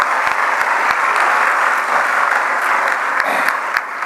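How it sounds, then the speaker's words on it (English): A banquet audience gives sustained, dense applause, loud and close, steady throughout with a few sharper individual claps standing out. "So let's give him a big round of applause."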